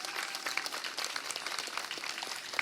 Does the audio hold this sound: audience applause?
yes